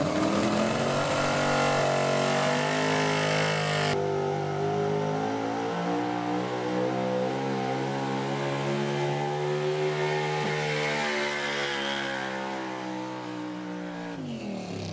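The White Whiskey hot rod diesel truck revs hard at a county fair track, a loud sustained engine roar climbing in pitch for several seconds, with a sharp shift near the start and a drop at the end.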